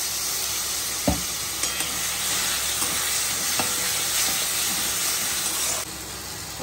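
A spoon each of turmeric and chili powder frying in rendered mutton fat for ghugni sizzles loudly and continuously up close, with a sharp clack near the start and a few soft stirring knocks.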